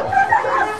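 Dogs in the Masiphumelele township near Cape Town give a quick burst of short, yipping barks, close and fairly loud, lasting under a second.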